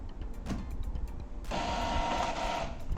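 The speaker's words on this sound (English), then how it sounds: "you can see the printer is working perfectly from iPhone also using PaperCut Mobility app" A USB printer runs a print job sent wirelessly from an iPhone, a steady mechanical whir that grows louder and busier halfway through as the feed engages, close by with no talking.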